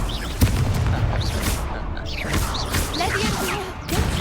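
A Confringo blast spell in Hogwarts Legacy, with a sharp thud early on followed by whooshing bursts and impacts during a busy fight, with spoken voices woven through.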